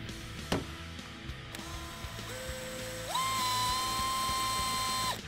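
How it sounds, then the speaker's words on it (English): A power drill bores a small hole with a universal or tiny twist bit near the canister in the engine bay of a 2017 Ford F-150 Raptor with a 3.5L EcoBoost. A few clicks come first, then a steady motor whine steps up in pitch and holds. "Grab yourself a 5/1/64 drill bit or a universal bit and drill it out."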